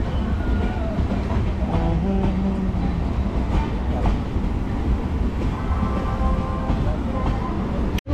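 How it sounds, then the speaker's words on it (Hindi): The Tatanagar Jammu Express passes alongside on the neighbouring track in India, a loud continuous rumble of wagons and wheel clatter heard up close from a moving train. "सामने से ट्रेन पास हो रही है टाटा नगर जम्मू एक्सप्रेस।"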